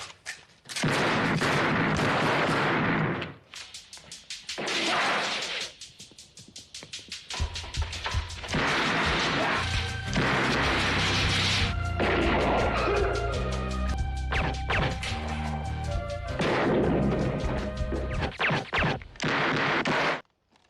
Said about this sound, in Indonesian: terjadilah baku tembak antara mereka dan geng tersebut